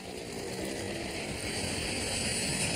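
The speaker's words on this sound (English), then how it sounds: "Eastern Airlines Flight 401 roars past." A steady, broad engine roar from an Eastern Airlines airliner passing overhead at night above the Everglades, growing slightly louder as it goes, with no voices.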